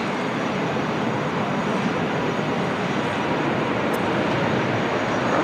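Airliner bound for Brazil rolling down runway 25 right at LAX for takeoff, a steady, fairly distant broadband engine rumble that stays even throughout, with no voices.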